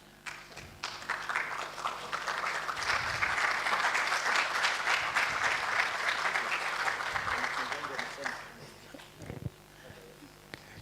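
Audience applause at an international research conference on business, economics and commerce swells after a few scattered claps, holds as a full steady wash, then tapers off into a few last claps and faint voices.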